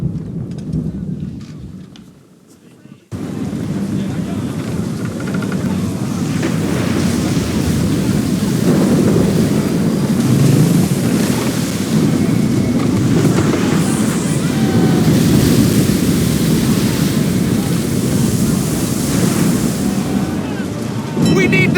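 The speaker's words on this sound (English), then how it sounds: "You wish us to sail into the storm?" Stormy sea during a sailing voyage in Assassin's Creed III: a dense, steady roar of wind, surf and rumbling weather fills the scene after a brief quieter opening, loud and continuous throughout.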